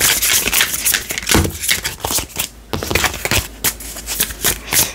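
Tarot cards are shuffled by hand in quick, crisp riffling bursts with brief pauses between them, close and clear with no talking.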